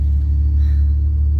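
The engine of a 1990 Buick LeSabre Custom car while driving, a loud steady low rumble heard close and alone, with no talking.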